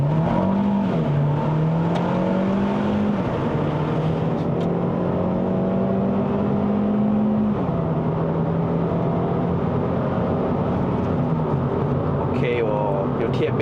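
A 2018 Hyundai Elantra Sport 1.6 turbo accelerates hard in a 0–100 test, its loud in-cabin engine drone climbing in pitch and dropping back at each gear change, with talking over it.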